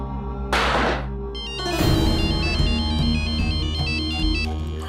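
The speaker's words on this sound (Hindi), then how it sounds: "एक काम करो, फोन लगाओ उस राजवीर को" A phone ringtone plays during an outgoing call in a Hindi crime drama, a loud repeating electronic melody that starts after a brief noisy burst and carries on steadily.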